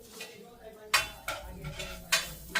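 Garlic, onion and ginger sautéing in a pan, with four sharp, evenly spaced clinks of a utensil scraping and tapping the pan over a faint background sizzle, heard close.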